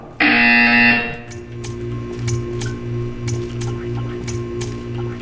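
A loud, flat electronic buzzer in Portal 2 sounds for about a second, then gives way to a quiet ambient drone with faint ticking.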